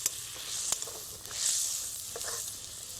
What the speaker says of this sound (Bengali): এটা কয়েক মিনিটের জন্য ফুটে যাওয়ার সময় দিতে হবে